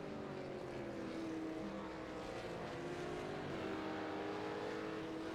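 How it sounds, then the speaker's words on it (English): Race cars in the iRacing sim at Watkins Glen do burnouts after crossing the line, a dense continuous engine roar with wavering, sweeping pitch and no break. "Looks like Simmons doing some burnouts after crossing the line."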